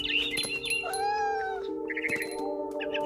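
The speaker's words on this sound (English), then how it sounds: "I was a cat." Cat meowing in the game What Remains of Edith Finch, several clear drawn-out meows and yowls close up, with a bird's chirps and soft rustling around them.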